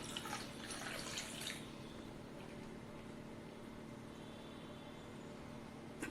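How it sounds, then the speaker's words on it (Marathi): Water poured into jowar flour batter makes a faint, steady trickle and splash, with a low background hum and a brief burst of pouring at the start. "थोडंसं पाणी टाकून घेऊया"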